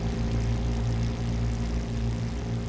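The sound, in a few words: Bell P-39 Airacobra Allison V12 engine, Flight Simulator X video game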